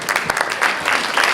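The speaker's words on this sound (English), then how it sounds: "Oh, a little nicer round of applause." Audience applause at a magic and mentalism stage show, a short burst of scattered, moderately loud clapping from the crowd with no talk.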